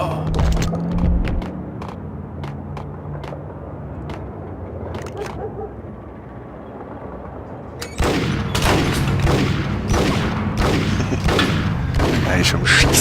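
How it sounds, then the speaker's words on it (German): Gunfire in the video game Max Payne comes as bursts of loud, rapid shots, with a few sparse cracks early on, then dense, heavy volleys in the second half, while a person talks over them. "Er ist am Schießen."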